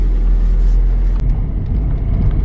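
City street traffic in Santa Monica heard from inside a car: a steady low engine and road rumble, fairly loud and continuous, with one brief click midway.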